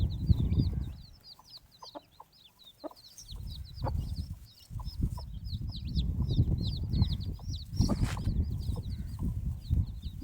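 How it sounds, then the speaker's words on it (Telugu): Many small hen's chicks peep in a constant high-pitched chorus, with clucking mother hens and rumbling, low-frequency handling noise nearby. "బుజ్జి బుజ్జి కోడి పిల్లలు ఎంత బాగున్నాయి"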